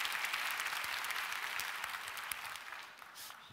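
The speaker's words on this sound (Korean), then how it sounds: "별거에 박수를 다 치네요" An audience at a Korean church prayer meeting breaks into applause, a fairly soft, steady patter of many hands that gradually fades away.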